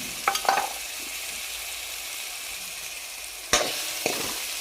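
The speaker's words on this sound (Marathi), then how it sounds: "बटाटा व्यवस्थित परतून घ्यायचा आहे।" Potato with turmeric sautéed in a pan for a drumstick flower curry: a soft steady sizzle with a few sharp scraping stirs of a spatula near the start and again toward the end, close and without voices.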